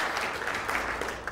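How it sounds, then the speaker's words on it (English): Hands clap in a steady, fairly dense patter through a short stretch, like a speaker applauding alongside an audience at a community leaders' gathering in Huntsville, Alabama; moderately loud with no voices over it. "I'm clapping for myself."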